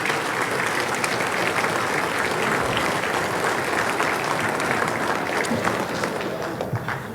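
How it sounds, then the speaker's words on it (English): Sustained applause from an audience at the 2022 National Softball Hall of Fame induction ceremony, a dense steady clapping that holds for several seconds before slightly thinning. "a round of applause for our current members of the National Softball Hall of Fame."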